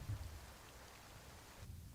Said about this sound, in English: It's pouring rain out here.